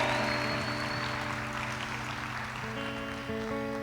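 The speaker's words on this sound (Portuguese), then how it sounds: "Aplaude que é aleluia" A church congregation applauds in a sustained, even wash of clapping, while sustained musical chords play underneath.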